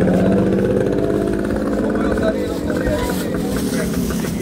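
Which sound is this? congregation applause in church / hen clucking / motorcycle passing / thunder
motorcycle passing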